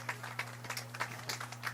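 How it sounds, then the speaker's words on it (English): Soccer fans applauding as an injured player gets up at a high school boys match, a thin scatter of claps at a distance over a steady hum. "Fans are clapping, he's up."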